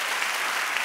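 Studio audience at The Wendy Williams Show clapping, a brief dense burst of applause, loud and even across the whole moment.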